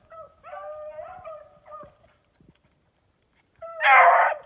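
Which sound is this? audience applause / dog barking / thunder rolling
dog barking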